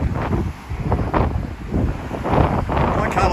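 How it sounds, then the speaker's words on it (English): Strong wind buffets the microphone in continuous low rumbling gusts along Sandgate Road in Brisbane, rising and falling in strength without a break. "Why can't I get a day where it's not windy"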